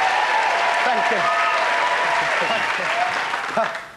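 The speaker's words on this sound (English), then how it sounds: "A magnificent applause from the 2000-handed lady at the back" Loud, steady applause from a studio audience at a 1995 Saturday night comedy show fills the whole stretch, with a few voices calling out over it before it begins to fade at the end.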